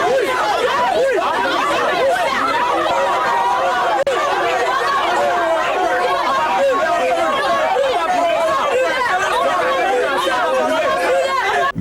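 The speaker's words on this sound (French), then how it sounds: "la foule menace d'escalader la barrière malgré la fermeté des policiers à garder ces curieux hors du commissariat" A hostile crowd gathers outside a police station in Cameroon, a dense, constant babble of many excited voices shouting and chattering at once, loud and close without pause.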